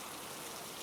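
Steady rain falling, a dense even hiss of drops with no pauses, soft and continuous, heard alone without talk.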